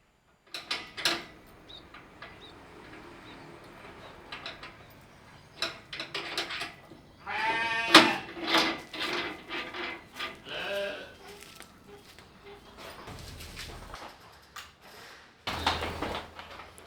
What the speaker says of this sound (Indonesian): Ini dia domba-dombanya sudah menunggu sarapan paginya.